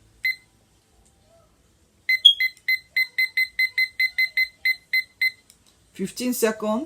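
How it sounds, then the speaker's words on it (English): A timer set for 15 seconds while fusing fabric gives one lone beep, then after a pause a rapid, evenly spaced run of about a dozen sharp electronic beeps. A person starts speaking just after. "I'll set my timer for 15 seconds."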